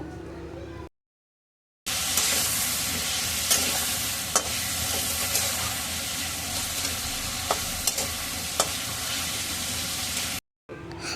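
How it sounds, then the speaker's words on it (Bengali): Cauliflower pieces frying in a pan of oil with salt and turmeric, a steady dense sizzle with occasional sharp pops, close and loud, breaking off briefly at the start and end. "নুন হলুদ দিয়ে ফুলকপি ভেজে নেব।"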